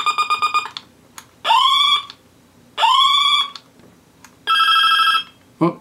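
Electronic telephone ringtone from a Galaxy Gun II toy made in 2001, a quick pulsing burst followed by three long, loud synthetic rings separated by short gaps, with a brief chirp at the end.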